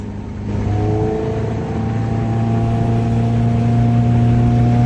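A Plancraft Sabre speedboat with a swapped BMW M42 four-cylinder engine accelerates, its loud, close engine note rising steadily in pitch as the throttle opens, with a constant roar of water and wind beneath it.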